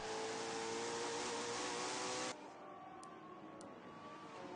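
A McLaren race car's engine at Mugello in a racing game holds a steady high-pitched whine that drops suddenly as the view shifts, then keeps droning more quietly, with no talking.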